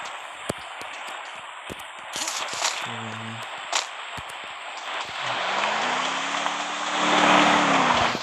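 Engine of a large car driving in a video game, a rising and steady hum building in the second half, with scattered clicks and short game effects over a constant background bed.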